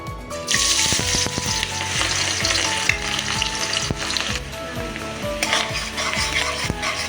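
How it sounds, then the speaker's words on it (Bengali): Chopped onion dropped into hot refined oil bursts into loud, continuous sizzling, dense crackling and spattering close by, with repeated knocks and scrapes of stirring throughout. "তেলের মধ্যে এবার দিয়ে দেব কুচিয়ে রাখা পেঁয়াজ।"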